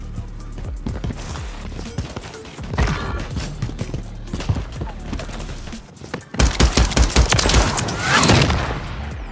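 Rapid gunfire bursts in Call of Duty MW3 during a 2v2 gunfight match, dense repeated shots and automatic fire with louder clustered volleys near the end.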